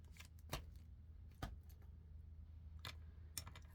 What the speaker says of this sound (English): I'm going to shuffle this one here